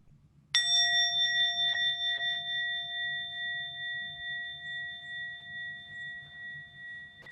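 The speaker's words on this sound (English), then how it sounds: "you can just listen to the sound of the bell" A mindfulness bell struck once during a guided breathing meditation, a clear bright ring with steady sustained overtones that slowly fade over several seconds, alone in a quiet room.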